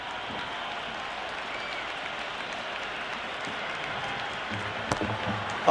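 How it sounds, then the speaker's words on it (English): A video game cricket crowd roars in a steady, dense wash of cheering and applause from start to finish, with a few sharper bursts near the end. "The crowd is electric right now."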